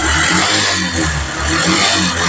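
A repaired Yamaha STX 150 motorcycle engine runs loudly and steadily close by, with a rough, pulsing mid-range drone and slight swells like light revving, no voices heard.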